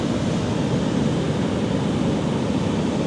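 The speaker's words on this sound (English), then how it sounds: "Even when you've got noisy waves going on," Noisy ocean waves wash onto a beach in a steady, loud, broadband roar of surf that fills the whole stretch without a break, close by and with no voices.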